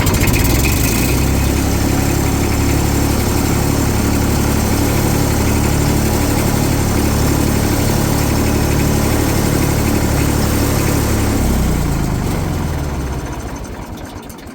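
A Fordson Super Dexta diesel tractor engine idles steadily in neutral inside a shed, a loud, continuous low throbbing with heavy vibration that carries on without a break before fading at the very end.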